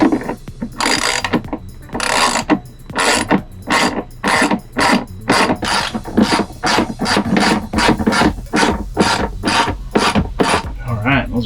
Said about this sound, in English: I'm gonna use my 1/2-inch socket.